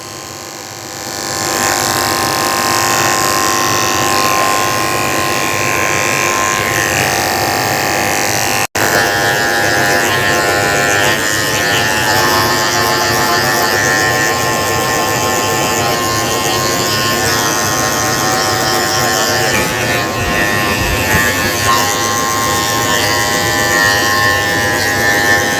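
Electric dog clippers fitted with a 10 blade buzz steadily and close up while grooming a Yorkie with cancer, a continuous motor whir that shifts slightly in tone partway through.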